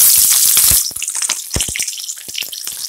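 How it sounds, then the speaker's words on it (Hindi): Green chillies dropped into hot oil for a pickle give a bright, hissing sizzle that is loud at first, then breaks into scattered crackles and pops, with no talk over it. "अब हमने तेल को गर्म होते ही तुरंत हम इसमें डालेंगे मिर्च।"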